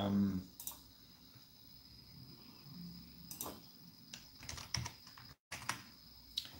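Quick, uneven bursts of typing on a computer keyboard, close and fairly soft, with short pauses between runs of clicking keys and no talking.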